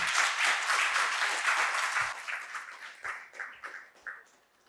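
An audience at a Gujarati mother-language day talk breaks into a burst of hearty applause for two speakers, loud at first and then thinning into scattered claps before fading out.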